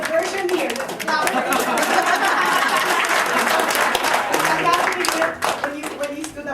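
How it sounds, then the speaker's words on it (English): An audience breaks into applause, a dense sustained clapping with some cheering and chatter mixed in, loud and close, fading slightly toward the end. "Let's clap."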